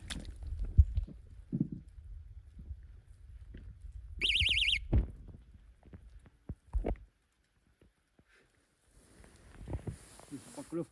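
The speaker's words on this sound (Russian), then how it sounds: "Так, поставим сигналку звуковую" A fishing bite alarm by a river gives a short burst of rapid electronic beeping partway through, amid quiet rustling, handling noises and occasional talk from people on the bank.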